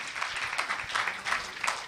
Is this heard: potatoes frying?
no